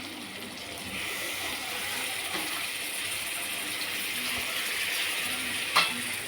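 Tomatoes fry in a pan with a continuous bright sizzle, steady and close, with a brief clack of a utensil near the end and no talking.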